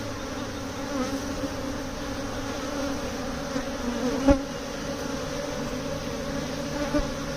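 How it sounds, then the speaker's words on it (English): A dense, steady drone of a honey bee swarm buzzing close by during transfer into a Layens hive, with a brief bump or tap partway through. "Look at all the bees on this one."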